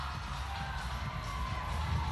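A crowd at the CrossFit Games semifinals keeps up a steady wash of cheering and shouting, heard as a distant, continuous roar.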